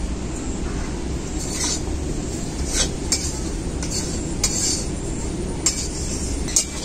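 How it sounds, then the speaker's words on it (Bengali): Semolina fries in a pan, with a steady dense sizzle broken by occasional sharp metallic scrapes and taps from a spoon as it is stirred; no talk. "সুজিটা কিন্তু ভাজতে ভাজতে এক এক করে সবকিছু মেশাতে হবে।"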